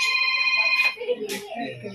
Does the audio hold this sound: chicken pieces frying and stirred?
no